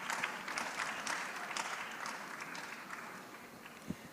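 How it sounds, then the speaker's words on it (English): An audience at a regional maritime conference in Africa applauds a panel, steady hall clapping sustained at moderate level and slowly thinning toward the end, with no talk over it. "Please let's have a round of applause for this stellar panel."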